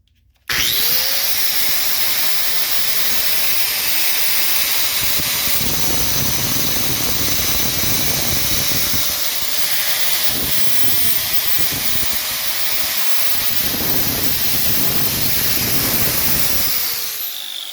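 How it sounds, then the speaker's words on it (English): A grinder spins up and grinds off part of the brake on a Honda XR70R dirtbike, a loud, close, continuous high-pitched whine with rasping metal contact that varies in pressure before winding down at the end. "We'll take a grinder and grind it off, I guess."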